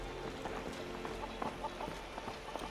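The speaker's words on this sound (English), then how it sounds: "Excuse me, chickens." Chickens cluck in the video game Skyrim, a short run of close, soft, irregular clucks and chatter over a low steady game ambience, with no talking.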